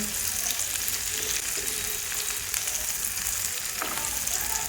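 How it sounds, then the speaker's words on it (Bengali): Onions frying in hot oil with whole cloves for a home-style chicken curry, giving a steady, dense sizzle that holds close and even throughout with no talk over it. "এই পেঁয়াজগুলোকে বাদামি কালার করে ভেজে নিব"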